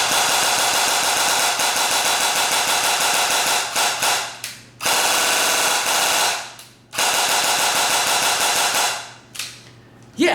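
An Okinawan Airsoft 97 C.A.T. airsoft gun fires in long rapid full-auto bursts, loud and close, a dense mechanical rattle broken by several short pauses between strings of shots.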